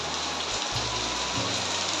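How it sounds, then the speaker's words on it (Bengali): Heavy rain pouring down outside, a dense continuous hiss of drops on surfaces, loud and steady with no talk over it. "এখন বহুত বৃষ্টি হচ্ছে, দেখো প্রচুর হারে বৃষ্টি চলছে।"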